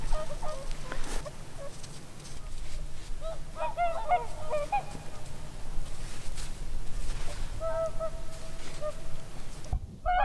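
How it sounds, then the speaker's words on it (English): Whooper swans calling in winter near the entrance to Sarek National Park, giving scattered honking, trumpeting notes in short bursts, moderately distant over steady background noise. "out there we have swans and different kind of birds"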